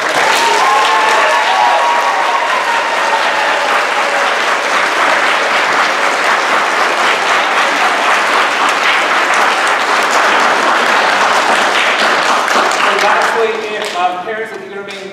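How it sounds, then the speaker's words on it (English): Big, sustained applause from a seated audience at a second grade ceremony, dense and loud clapping that holds steady for many seconds before thinning out near the end as voices come through. "one more huge round of applause for our"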